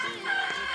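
A brief, close chicken call at a farmhouse in the Amadeo highlands, a short fowl squawk or cluck standing alone against a quiet outdoor backdrop.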